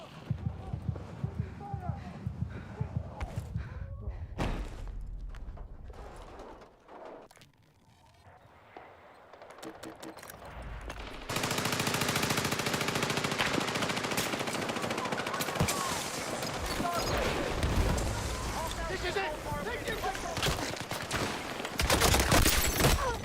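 Rapid gunfire from a multiplayer shooter game scoring headshot kills, dense bursts filling the second half loudly, with voices talking over quieter game sounds early on.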